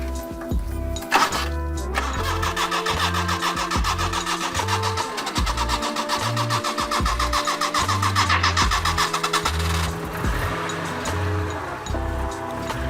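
A Toyota Hijet small van engine cranks with a brief starter whine, then catches and settles into a steady, loud idle that runs close by.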